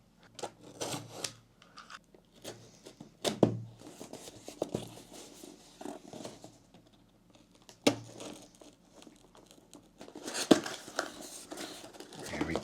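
Packaging of a boxed Dalek figure being unwrapped and opened, with close crinkling plastic, tearing and rustling cardboard in irregular bursts, and a voice speaking intermittently over the handling.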